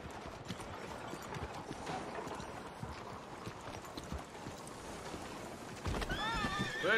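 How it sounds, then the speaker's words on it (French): A horse in the video game Red Dead Redemption 2 trots with steady clip-clop hoofbeats over outdoor ambience, then lets out a loud, quavering whinny near the end. "Viens là, cheval."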